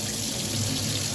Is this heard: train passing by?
no